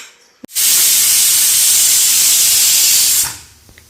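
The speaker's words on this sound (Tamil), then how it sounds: "இப்போ மூடி போட்டு வெயிட் போட்டு 2 விசில் விட்டு எடுத்துக்கலாம்." A pressure cooker sealed with its weight lets out a long, loud, steady hiss of steam while seeraga samba brinji biryani cooks, starting abruptly and cutting off after nearly three seconds, with no talk over it.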